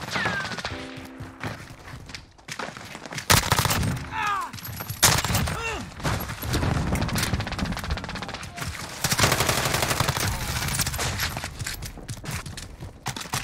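MP5 submachine gun fire in the shooter Modern Warfare: several rapid automatic bursts, loud and close, with sharp cracks, mechanical clicks and clatter between them, and brief voices now and then.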